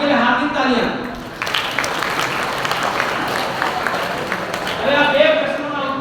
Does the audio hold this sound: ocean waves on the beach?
no